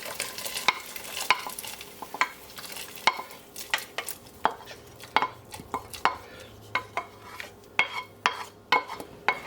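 Vegetables tipped into a pot of thick, hearty yellow split pea soup and stirred, giving a steady run of close spoon scrapes and knocks against the pot over a faint sizzle, with no talking.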